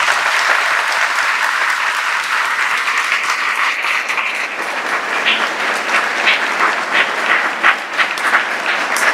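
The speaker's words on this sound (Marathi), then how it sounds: "आपण प्रभू हनुमंतरायासाठी एकदा जोरात टाळ्या वाजविल्या पाहिजे" A crowd at a Hanuman pilgrimage procession claps steadily and loudly for several seconds, a sustained wash of applause without voices.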